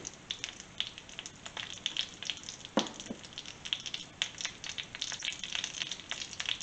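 Egg frying in coconut oil in a pan, a steady soft sizzle with scattered crackles and pops, close and fairly quiet, with no talking.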